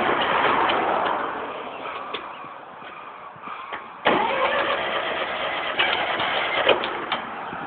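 The engine of a 1974 International 2400A industrial tractor cranks and catches, sputtering as it is choked, then running rough and steady close by, with no talk.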